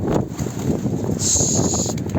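Strong wind roars and buffets the microphone continuously, a dense rushing noise with gusty surges throughout.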